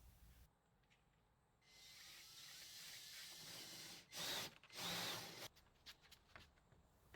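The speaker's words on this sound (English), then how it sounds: "Now you're going to set up your drill bit so that is about 1/8 to 1/4 inch sticking out past the hole saw." A power drill fitted with a hole saw bores through a wooden door for a deadbolt, a fairly quiet sustained grinding hiss lasting a few seconds with a couple of louder bursts before it stops.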